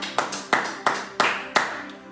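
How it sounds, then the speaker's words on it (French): A church congregation claps in a steady, even rhythm, with six or seven sharp claps at moderate volume and no voices over them. "Acclamons pour le Seigneur."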